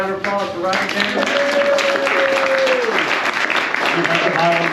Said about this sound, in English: Another round of applause for Rilke Prize.